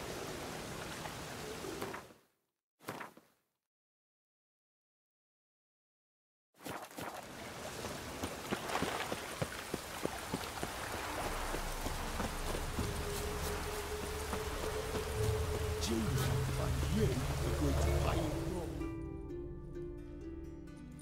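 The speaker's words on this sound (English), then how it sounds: "creatures have conjured rain again." Rain falling in The Witcher 3, a soft steady hiss of drops that cuts out briefly near the start, then returns and gradually builds under a faint low rumble.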